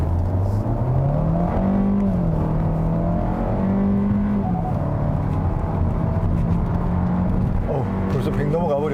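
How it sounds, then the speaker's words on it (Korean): A Kia Seltos 1.6 turbo accelerates hard in sport mode, its engine note rising steadily and loudly, dipping at a gear change and climbing again, with road and wind noise beneath and a voice talking over it. "스포츠 모드에 두고 급가속을 한 번만 더 해보겠습니다"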